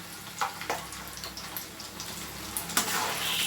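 Food frying in hot oil in a home kitchen, spitting and crackling with sharp pops over a steady sizzle, close and moderately loud, with no one talking.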